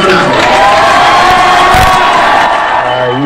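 A crowd of supporters at a Ruben Gallego rally in Arizona cheering loudly and continuously, with whoops and shouts blending into a dense roar, near and steady throughout.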